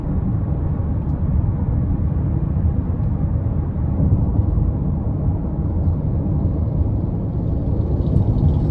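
2026 Nissan Rogue Dark Armor AWD with a 1.5 engine pulling out of a corner, a steady loud engine drone mixed with road rumble inside the cabin, holding even with a slight swell near the end.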